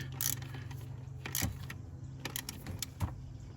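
Metallic clicks and light jangling ring out as fasteners are tightened back down after a new ignition coil goes into a GMC Yukon engine bay, with a few distinct clacks over a steady low hum.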